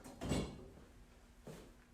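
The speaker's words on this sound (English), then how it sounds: "I'm going to open the oven." An oven door in a home kitchen swings open with a short thump and clatter, followed by a softer knock a moment later, close by and without talk.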